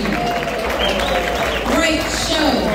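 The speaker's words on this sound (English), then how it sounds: "more round of applause for these Warriors in the ring." Crowd applause for the boxers in a ring at a fight night, continuous and loud, with speech and crowd noise running over it the whole time.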